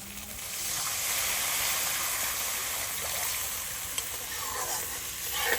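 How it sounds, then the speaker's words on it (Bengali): Water poured into a frying spice mixture in a pan gives a broad, steady rush of hissing steam and bubbling, fairly quiet and even, with a faint tap near the middle. "এখন এর মধ্যে দিয়ে দিচ্ছি পরিমাণ মতো জল"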